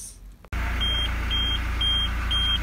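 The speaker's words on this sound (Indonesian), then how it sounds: "TPMS nya lagi menerima sinyal kalau ban sedang lemah, yang bagian kanan belakang ya" Repeated electronic warning beeps from a car's tire pressure monitor flagging a low rear-right tire, four short evenly spaced tones over a steady engine hum inside the cabin.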